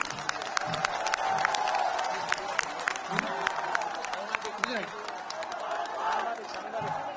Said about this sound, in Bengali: তাদের সম্মানে আপনাদের কাছে একটি করতালি আমি আশা করছি